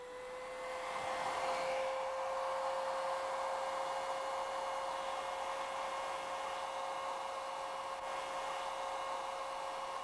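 A blower pushes air over a bimetal strip in a physics lecture demonstration on thermal expansion, a steady faint whooshing hiss with a constant tonal hum, starting after a second and continuing alone without speech.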